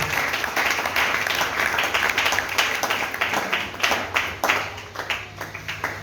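A church congregation breaks into sustained applause, a dense, even wash of many hands clapping that thins into scattered claps near the end.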